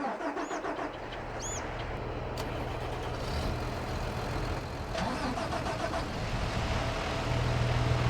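A New Holland tractor engine in Farming Simulator 22 starts and settles into a steady mid-pitched idle, rumbling continuously and close by, with a brief rise in revs near the end.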